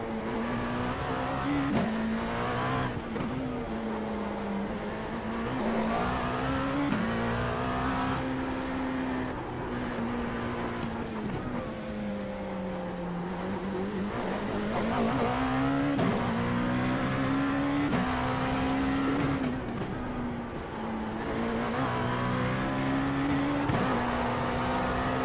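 Dallara P217 prototype race car engine in the iRacing sim at the Belle Isle street circuit, droning loudly and continuously with repeated rises and falls in pitch as it accelerates, shifts and brakes through corners, alone with no talk.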